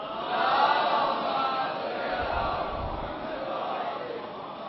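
A large crowd at a Muharram religious gathering chants salawat aloud in unison, a dense, roaring wash of many voices that swells early and holds steady throughout.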